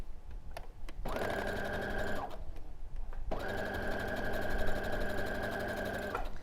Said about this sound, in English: So we'll sew our last 2 rows together.